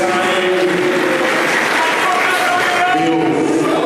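A crowd applauds at the swearing-in ceremony of a new Edo State deputy governor, dense clapping sustained and fairly loud throughout, with voices mixed into the noise.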